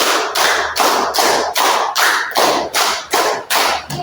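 A group of pupils at SDN Karangduren 1 elementary school claps together in a steady counted rhythm, about nine sharp, loud unison claps, evenly spaced and close, with no talking.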